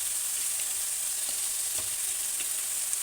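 Prawns frying in a pan for a prawn roast, giving a steady, dense sizzle throughout with faint stirring ticks.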